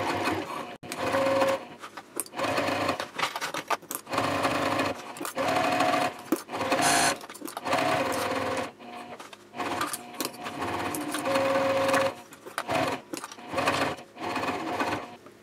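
A sewing machine stitches the back of a fabric sling's gusset, running in close, steady whirring bursts broken by brief pauses, with one sustained stretch of continuous stitching.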